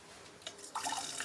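Water spraying briefly from the nozzle of a toilet bidet, a faint hiss with light splashing and dripping that grows slightly louder toward the end.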